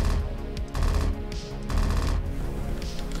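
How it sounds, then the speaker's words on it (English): Bullet impacts in a sci-fi mech top-down shooter game hit as rapid, punchy thuds in quick rhythmic bursts, loud and close, with no one talking. "I also added these bullet impact sounds."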